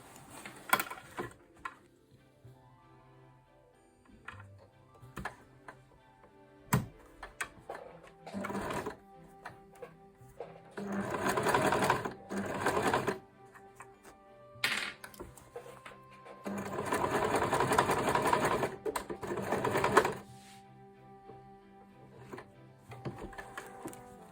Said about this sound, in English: I'm just going to sew from the corner to the clip.